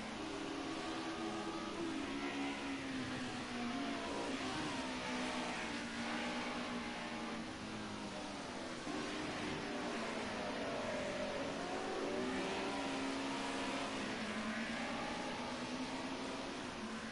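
Mercedes 190E race cars lap the Snetterton circuit, engines droning and rising and falling in pitch as they rev through gears, a steady continuous mechanical roar at moderate distance with no talking.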